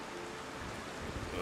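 Steady rain from the video game Foundation, a continuous even wash of drops and patter that holds at a constant moderate level for the whole stretch with no voices.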